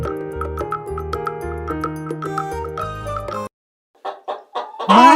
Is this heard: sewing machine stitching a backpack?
no